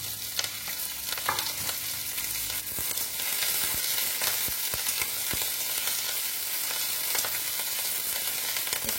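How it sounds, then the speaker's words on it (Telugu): Green chillies crackle and sizzle in hot tempering oil for an Andhra-style curry, a steady bright frying hiss with occasional sharp pops, close and continuous throughout with no talking. "ఇందులో పచ్చిమిర్చి కూడా వేస్తున్నానండి."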